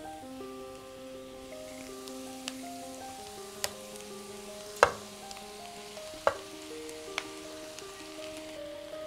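Vegetables and chow mein noodles frying in a hot pan for a Hakka-style dish make a steady, close sizzle, broken by a few sharp clicks and scrapes from stirring.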